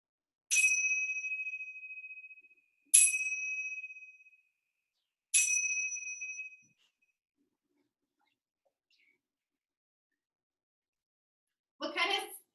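Three clear metallic chime strikes ring out one after another, each with a long shimmering decay and about two and a half seconds apart, in a quiet room during a kids' yoga class, followed by a brief rustle near the end.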